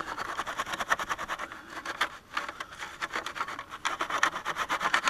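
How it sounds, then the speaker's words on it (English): Leaves and dirt being scraped around a coyote dirt hole set outdoors: rapid rhythmic rasping strokes, close and fairly quiet, in steady bursts with a brief pause midway. "Just scraping some leaves around there."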